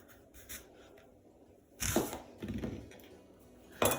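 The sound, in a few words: knife cutting an apple in half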